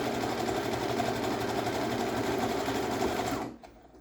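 A sewing machine stitches elastic onto panties, a close, steady rapid whirring that runs without a break for several seconds before stopping abruptly.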